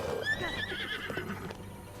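A horse in The Legend of Zelda: Twilight Princess HD lets out a clear, close whinny that trails off, followed by faint clip-clop of hooves in the game.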